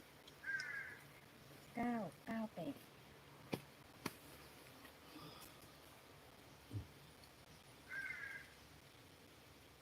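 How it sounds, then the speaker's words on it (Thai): Several crows caw in short bursts, some fairly near and some farther off, with a few sharp knocks and low background noise between calls. "เสียงการ้องเยอะเหมือนกันเนาะ"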